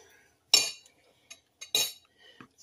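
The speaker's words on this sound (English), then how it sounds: "We're going to mash up our yolks." A spoon mashes hard-boiled egg yolks for deviled eggs in a dish, with two sharp clinks of metal on the bowl and a few softer taps and scrapes between them, close and clear.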